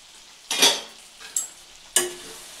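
Okra fries in a pan, a steady low sizzle broken by three sharp stirring scrapes at close range, with no voices.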